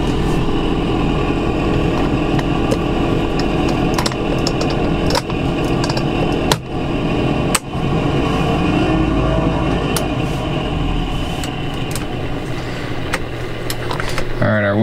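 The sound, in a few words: heater blower fan running in an Edsel Corsair car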